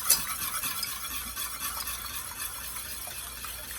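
A whisk stirs tempered eggs into milk and cream for crème brûlée, giving a continuous, quiet swishing and faint metallic scraping in a bowl, steady without pauses.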